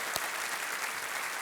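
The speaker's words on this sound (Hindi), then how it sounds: "यहाँ जितनी जनता बैठी है आपके लिए तालियां बजा रही है" Studio audience on a quiz show clapping for a contestant who has just won, a brief burst of dense, even applause filling the room.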